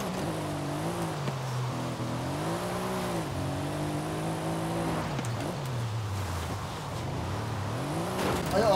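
Mercedes-AMG GT-R sliding on a wet road in Forza Horizon 5, engine droning and rising and falling in pitch as the car slithers, with revving swells and a louder surge near the end.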